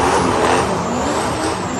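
A drift car's boosted engine running hard on a dyno, a loud, sustained roar that holds steady with no pauses.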